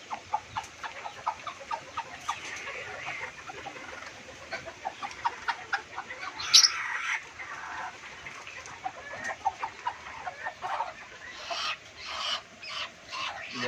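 A small hen clucks repeatedly at close range around egg-laying chickens, short rhythmic clucks with a louder squawk partway through, no talk.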